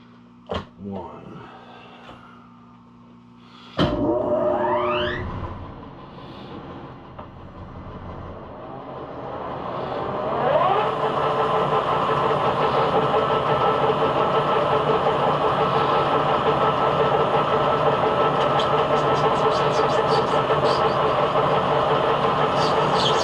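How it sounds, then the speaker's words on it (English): Lathe spinning up to 314 RPM while turning an acrylic workpiece: after a thump and a rising whine, a steady loud mechanical hum with tonal drone settles in and runs continuously. "And fire up the lathe."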